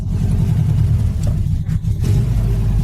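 An old Saab, left in a garage for 30 years, pulls away in first gear with a loud, close, steady low engine rumble that holds through the whole stretch.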